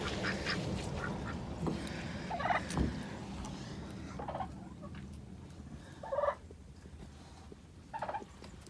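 Free-range homestead turkeys gobble in several short bursts over a constant low farmyard hum, the calls coming from moderately close by and spaced a few seconds apart.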